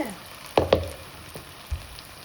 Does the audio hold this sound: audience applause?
no